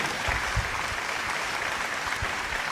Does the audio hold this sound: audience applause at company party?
yes